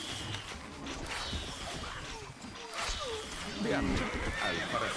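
Horses in the Stronghold: Crusader strategy game whinny amid game sound effects and hoofbeats, with a voice speaking over the moderately quiet, busy mix.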